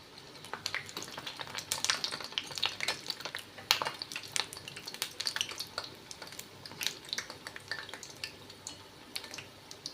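Palak vadai deep-fry in oil on a medium flame, giving a steady, soft sizzle with frequent crackles and pops and occasional light utensil clinks, with no talking.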